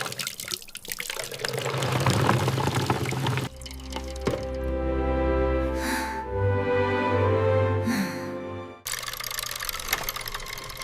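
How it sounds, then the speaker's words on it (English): Water pouring onto the paddle wheel of a homemade science project, a close gushing and splashing with dripping, broken by a few abrupt changes in the flow across about eleven seconds. "water hits the paddles, paddles push the wheel"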